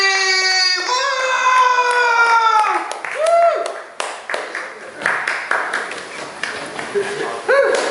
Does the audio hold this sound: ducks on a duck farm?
no